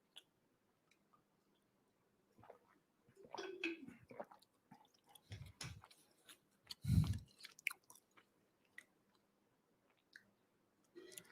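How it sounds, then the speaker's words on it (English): A person drinking water, close and quiet: scattered mouth clicks, sips and wet swallowing gulps, with a louder gulp cluster toward the middle among long silent gaps. "while I'm drinking water"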